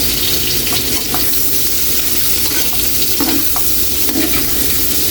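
Onion and garlic sautéing in hot oil as the base for milkfish paksiw, a dense, even sizzle close up with a few light clicks of a spatula stirring, no voices.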